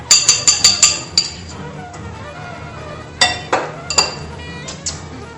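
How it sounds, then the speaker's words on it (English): A metal spoon clinks sharply against a pot while tomato paste is stirred into a homemade lasagna sauce: a quick run of rhythmic taps, then scattered louder knocks and scrapes, all close and without talk. "Stir the tomato paste in here, and this will help thicken up the sauce a little."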